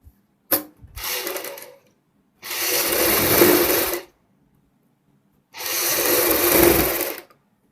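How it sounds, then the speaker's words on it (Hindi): Sewing machine stitching a brocade piece onto a blouse neckline, a few short clicks followed by three steady whirring runs of needle chatter, loud and close, separated by quiet pauses. "इस प्रकार रखते हुए हमने यहाँ पे सिलाई लगानी है।"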